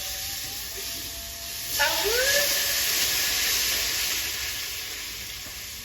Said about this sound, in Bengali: মশলা আমার ভাজা হয়ে গেছে তেল ছেড়ে দিয়েছে এবার আমি দুধটা দিয়ে দেবো